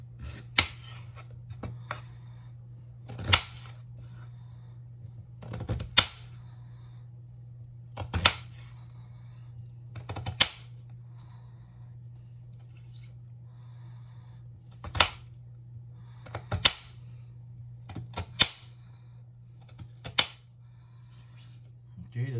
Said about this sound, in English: Let us cut the onions into small pieces.